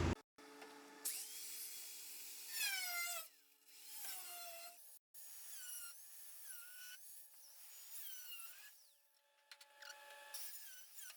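Damaged section of a hunting boat hull being cut out with a high-pitched power tool that whines in repeated bursts, pitch sliding up and down as it bites, separated by short quiet pauses.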